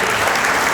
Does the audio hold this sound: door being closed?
no